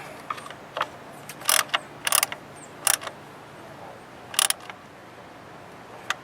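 A socket wrench ratchets in short, sharp clicking bursts while spark plugs are changed on a 2011 Nissan Altima 2.5 SL, several irregular close clicks spaced apart over a quiet background.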